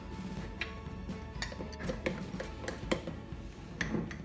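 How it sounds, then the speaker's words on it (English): A spoon stirs a sourdough mixture in a bowl, giving a steady run of light, irregular clinks and ticks against the dish. The sound is quiet and close. "now just stir it right up"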